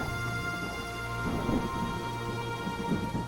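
Heavy cartoon rainfall with rolling thunder, a steady dense downpour hiss throughout, and low rumbles swelling around the middle and near the end, loud and close with no voices.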